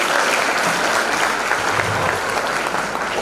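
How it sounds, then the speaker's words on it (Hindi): A comedy show audience at an institute claps in sustained applause, a dense, steady wash of many hands that stays loud and even throughout with no speech over it. "आप लोग कम से कम तालियां तो बजाएंगे।"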